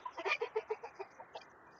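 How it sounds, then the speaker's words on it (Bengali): Egyptian Fayoumi chickens on a rooftop farm give a quick run of short clucks close by, fading toward the end. "আমার ছাদ বাগানের একটা ছোট পরিসরে মুরগির খামার"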